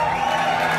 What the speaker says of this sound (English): Let's keep that applause going for your host coming to the stage right now